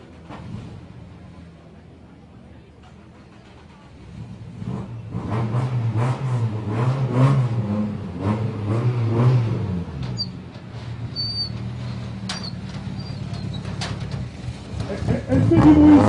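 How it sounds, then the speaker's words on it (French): A rally car at the Epernay Vins de Champagne rally revs loudly, its engine roaring in repeated surges over crowd noise and background chatter. "Elle fait du bruit cette voiture, Patrick."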